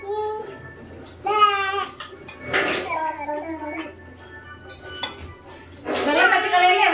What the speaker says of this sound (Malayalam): അമ്മച്ചി പാത്രം കഴുകല്ലേ?